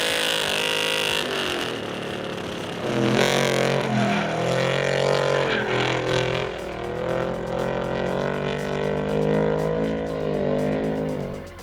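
A drift car's engine revs hard and continuously, swelling and dropping in pitch as the driver works the throttle through slides, loud and close with a rasping exhaust tone.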